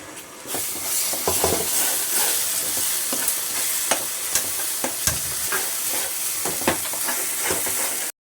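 Spices roasting on a low flame for chole sizzle and crackle in a hot pan while a spoon stirs and scrapes at irregular intervals, close and steady, without voices.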